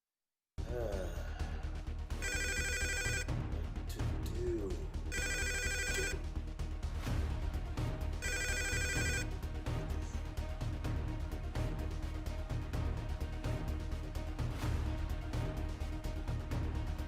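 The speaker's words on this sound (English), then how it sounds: "Oh boy, that phone is ringing." A telephone rings in a video game in repeated electronic bursts, three trills separated by pauses, over a steady synthetic background hum.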